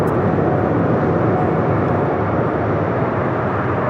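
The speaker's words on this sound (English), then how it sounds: "We have EVA Air Flight 5 lined up on 25 right for takeoff." An EVA Air airliner rolls for takeoff on runway 25 right at Los Angeles International Airport, a loud, constant broadband engine roar that holds steady and close without a break.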